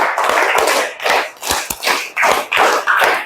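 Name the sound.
class clapping hands in counted pattern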